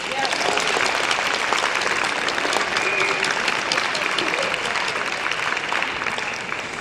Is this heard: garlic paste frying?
no